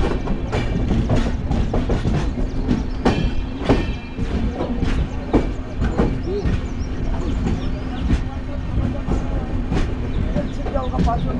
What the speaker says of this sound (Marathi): आपली ट्रेन फायनली इथे रत्नागिरीला पोहोचलेली आहे